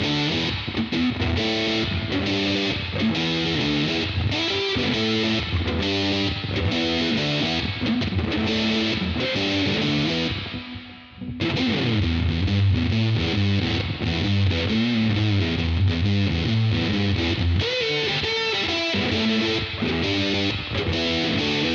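A guitar played through a fuzz pedal, thick and heavily saturated, strums sustained chords in a rhythmic pattern that pauses briefly midway and then resumes, loud and close with no voices.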